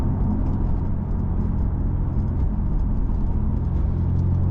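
A BMW F82 M4 Competition engine with Sport Plus throttle and manual gearbox mode, heard as a steady, loud, dense rumble from inside the car with no talk over it.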